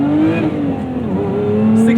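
A Lotus Emira sports car engine revs loudly and steadily upward toward its 6,800 RPM redline, one continuous rising tone close by with no pauses.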